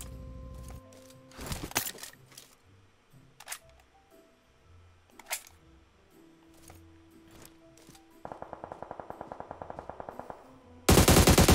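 Gunfire in the mobile game PUBG Mobile, scattered single shots and short bursts, then a fast rattling automatic string of rounds near the end, with game interface tones between.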